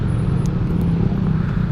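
Dense, steady low rumble of road traffic stuck in a jam, engines idling and crawling close by with a few faint higher sounds, with no voices.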